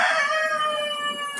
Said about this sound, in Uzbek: 8ta tovuq bor bu yerda.